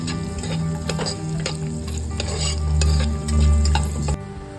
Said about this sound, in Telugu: బాదం, కిస్మిస్ కూడా ఫ్రై చేసేసుకుందాం.